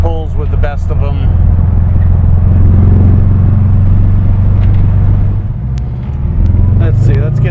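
A 1963 Porsche 356 Carrera 2 coupe's four-cam engine pulls hard on the road, a loud continuous droning rumble that rises and holds under someone talking through most of it.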